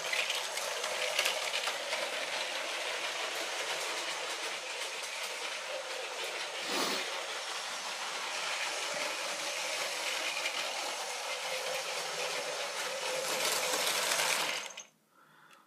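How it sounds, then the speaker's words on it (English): Lego 7938 Passenger Train with an added car running around its track, a steady whirring motor with rapid clicking wheel noise throughout, briefly dipping midway, then cutting off abruptly at the end. "I'll run the train around the track again with the additional car."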